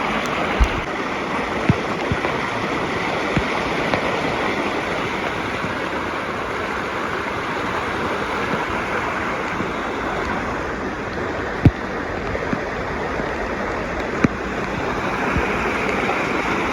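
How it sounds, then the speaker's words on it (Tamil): Cyclone floodwater rushing across a Chennai beach like a river, a constant loud broadband wash of flowing water with a few faint knocks, no voices. "பீச்சு தான் இது. ரிவர் மாதிரி போயிட்டுருக்கு."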